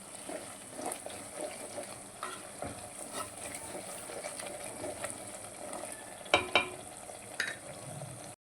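Cleaned mutton kidneys fry in a pan with turmeric, a steady close sizzle broken by a few sharper clinks and scrapes of stirring near the end.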